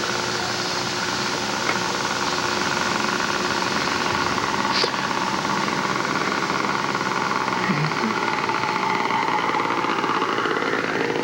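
A model Turbo Beaver airplane's engine idles steadily while it taxis back after landing, a continuous buzzing drone that holds at an even level throughout with no talk over it.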